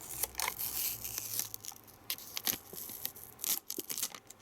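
Protective plastic film peeled off a Sega Mega Drive Mini console, a series of close, crisp tearing and crinkling bursts, quiet and with no talk.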